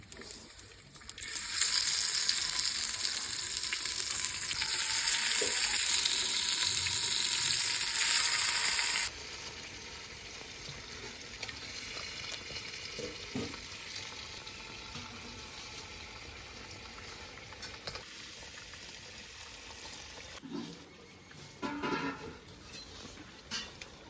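Mutton hits hot oil tempered with cloves, cinnamon and whole cardamom in a handi, giving a loud, bright sizzle for several seconds before it settles into a quieter frying crackle with occasional stirring clinks.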